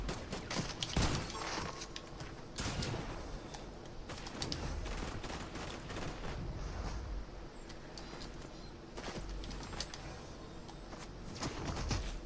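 Gunfire in the Fortnite video game, bursts of rapid shots and sharp single cracks scattered across the clip, fairly faint, with clicks and mechanical creaks between them.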